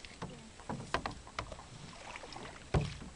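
A canoe is paddled through water: irregular close splashes and knocks of paddle strokes, with one heavier thump near the end and some wind buffeting the microphone.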